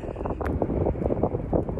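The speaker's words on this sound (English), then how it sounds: "Much windier up here." Wind blowing steadily across an exposed hillside on a sheep farm in winter, a constant rumbling buffet with gusty surges, loud and close against the microphone.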